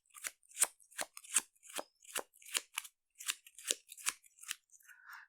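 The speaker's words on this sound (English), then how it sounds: "So we have to take these 2, shuffle them up." Game cards being shuffled by hand during a tabletop game, a steady run of about a dozen crisp, papery flicks and snaps at close range, quiet and with no voices.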